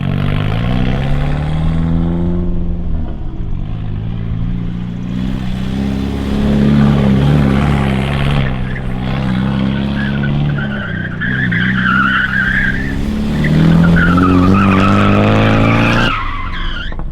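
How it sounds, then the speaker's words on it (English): A car circles a wide lot, its engine revving steadily while the tires squeal and skid continuously, the pitch of the squeal shifting as it speeds up through second gear. "You're basically gonna drive around this circle, get up into second gear, go faster and faster and faster"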